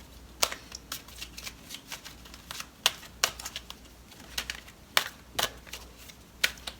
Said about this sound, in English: These are very shiny, and so I have to keep them from slipping and sliding while I'm shuffling them.